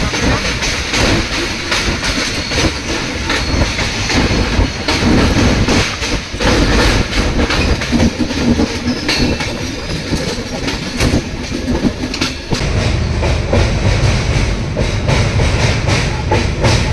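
A Vistadome coach train runs on rails with a loud, continuous roar, steady rhythmic clicking of wheels over rail joints, and a constant hiss close by, with a shift in tone near the end.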